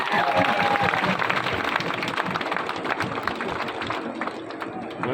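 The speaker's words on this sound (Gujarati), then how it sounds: "બારોટજી માટે આપણે એક વખત ફરીથી તાળીઓ પાડીએ" Audience at a Tharad BJP party workers' gathering applauding steadily, a dense continuous wash of clapping from a crowd, loud and sustained throughout with some murmur mixed in.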